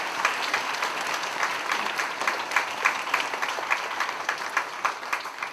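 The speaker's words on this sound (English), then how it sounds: "Please join me in a round of applause and thanks to Mr." Sustained audience applause at a school dedication ceremony honoring David Patton, a dense steady wash of many hands clapping at moderate volume without a break.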